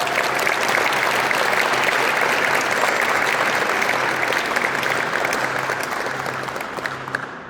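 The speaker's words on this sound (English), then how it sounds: "Can we give Ann a round of applause?" An audience at a military change of command ceremony for an airlift squadron breaks into sustained applause, a thick, even wash of many hands clapping that holds steady and then begins to fade toward the end.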